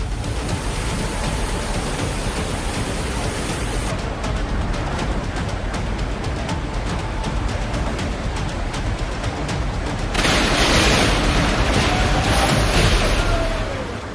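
Heavy cloudburst rain and rushing flood water in the Himachal Pradesh and Uttarakhand hills make a loud, unbroken roar that swells even stronger toward the end.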